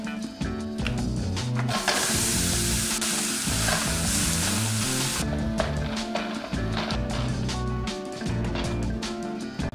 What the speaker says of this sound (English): First off, let's brown our mince.